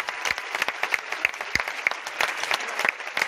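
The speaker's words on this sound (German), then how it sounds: "Nochmal ein großer Applaus." A small comedy show audience in a cinema in Neckarsulm claps enthusiastically, a dense patter of hand claps continuing steadily throughout, fairly close.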